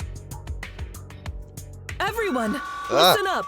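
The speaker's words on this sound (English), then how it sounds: "Feedback." Megaphone feedback in a video game: a shrill, steady whine swells near the end of the moment, rising over a spoken voice and busy game sound effects that come before it.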